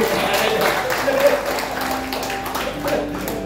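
Congregation clapping during a Sunday church service, a muffled, moderate round of applause mixed with voices and room noise in the hall.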